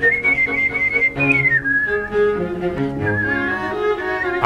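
A person whistling with the palate, a clear high melodic tone gliding between notes over a backing of music, sustained and close.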